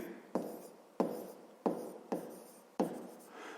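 Pen strokes on paper while working a fifth-grade maths exercise, five distinct scratching bursts in a steady rhythm, close and clear with no talk.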